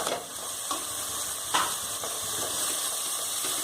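Mutton leg pieces sizzle and fry in a pan with turmeric, mutton masala and chili powder, a continuous close hiss with occasional stirring scrapes and no talk.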